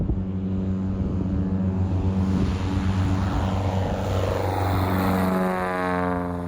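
A Cessna 170 taildragger with a new engine takes off at full power, its propeller and engine producing a steady, loud droning roar with a rising whine, heard close and uninterrupted.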